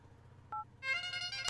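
Phone number dialed on a handset, a short beep followed by a run of bright electronic dialing tones, close and fairly loud over a quiet room.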